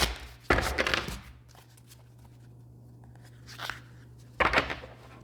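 Tarot cards are shuffled by hand in a slightly cold room, two brisk riffling bursts a few seconds apart with a softer rustle between them, close to the microphone over a low steady hum.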